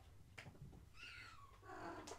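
A squeaky kitten gives a few thin, faint mews close by, with quiet room noise and no talking.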